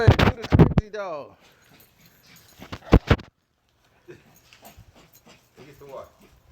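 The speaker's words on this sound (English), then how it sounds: "Go ahead, do the crazy dog." An excited dog whimpers and yips in short bursts up close, breaking off into pauses, while people talk over and between the sounds.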